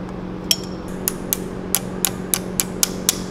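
A series of sharp metallic taps from an improvised hammer driving cotter pins on a Jeep, about ten in a fairly steady rhythm, over a constant low mechanical hum.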